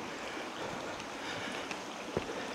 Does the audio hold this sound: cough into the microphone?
no